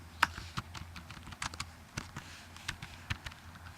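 Keys on a computer keyboard are tapped in short, uneven bursts as a color code is typed in, crisp close-up clicks over a quiet background.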